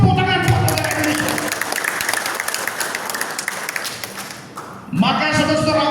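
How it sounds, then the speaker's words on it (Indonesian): A crowd at a Youth Pledge Day gathering of Indonesian youth bursts into loud, sustained applause for several seconds. Someone speaks just before it starts and again as it dies away. "Tepuk tangan buat negara Indonesia."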